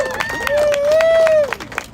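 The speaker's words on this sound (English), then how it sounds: "I want you to give yourself a round of applause for being here" Protest crowd in Washington, DC, clapping in scattered bursts at close range for about two seconds, with a sustained whistle rising over the claps.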